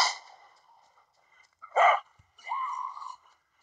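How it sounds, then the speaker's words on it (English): A dog in the zombie shooter game Into the Dead barks twice, with short separated yelps among faint background game sounds, fairly close and clear, and no talking. "Hopefully I run into my dog, Max, because I missed the crate."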